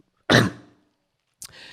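A single loud, harsh cough bursts out and trails off, followed after a pause by a short breathy sound.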